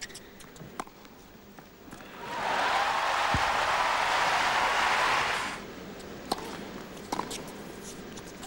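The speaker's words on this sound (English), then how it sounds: "Again, the crowd celebrating." A tennis crowd at a 2006 Antwerp women's match bursts into a sustained wave of applause and cheering lasting a few seconds, swelling then fading back to quiet arena ambience with a few scattered sharp sounds.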